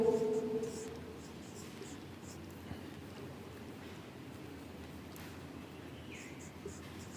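Chalk or marker scratches faintly in short strokes on a classroom board during a Hindi-language agricultural biology lesson. The sound is quiet and intermittent over a low room hum.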